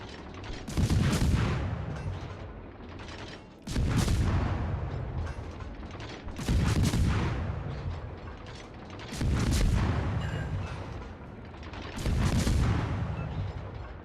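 Warship main guns fire in World of Warships: Legends, five heavy booming salvos spaced roughly every two and a half seconds, each with a deep rumbling tail, no talk.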